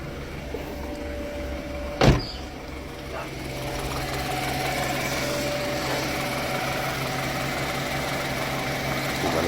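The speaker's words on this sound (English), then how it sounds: "One of the pulleys, you can hear one of the pulleys, the bearings is making noise." A BMW F30 engine with a newly fitted timing chain kit idles with a steady low hum and a faint whining, rattling note from a worn pulley bearing; a sharp knock sounds early, then the idle continues evenly without talk.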